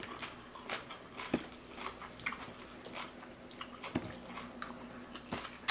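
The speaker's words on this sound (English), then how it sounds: "it wasn't cooked, so all the vegetables are raw. Hence the crunch." Raw shredded cabbage and carrot in a shrimp coleslaw salad are chewed close up: a run of soft, wet crunching bites recurs irregularly, each brief crisp snap standing out from quiet mastication.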